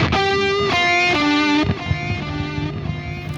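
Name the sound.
electric guitar with high-gain distortion, no noise gate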